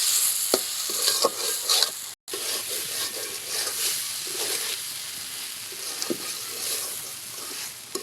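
Ridge gourd cooking in a pan with no added water, stirred so a utensil scrapes and clatters over a steady loud sizzle, with a brief cut in the sound partway through.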